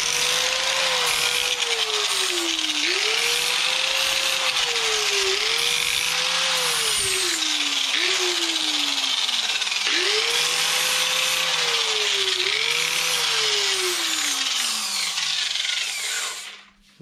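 A power tool whines in repeated rising and falling bursts while re-cutting the damaged threads of a rusty nut on a Porsche Cayenne V8 during wheel bearing work, continuous and close, then stopping at the end.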